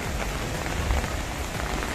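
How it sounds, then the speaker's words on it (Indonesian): Steady heavy rain falls onto outdoor fish ponds, a dense even hiss of drops hitting water and surfaces, close and continuous with no voices. "ini kolam-kolam kita terisi dengan air hujan"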